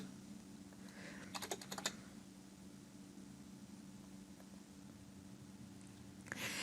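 A computer keyboard is typed on in two short bursts of quick, soft key clicks, one early and one at the end, over a steady low electrical hum in a quiet room.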